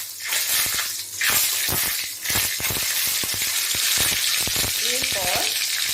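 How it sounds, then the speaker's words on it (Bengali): Dried chillies, whole garam masala and cumin crackle and sizzle in hot oil in a kadai, a loud close bright hiss broken by sharp popping spits, with a brief faint voice near the end. "এরপর আমি শুকনো লঙ্কা, গোটা গরম মশলা আর জিরে ফোড়ন দেবো।"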